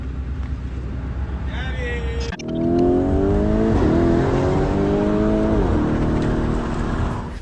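A car engine roars as the vehicle speeds off, with revs climbing and shifting in rising sweeps after a quieter idle, loud and close for several seconds before easing slightly.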